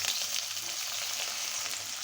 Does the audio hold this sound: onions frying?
yes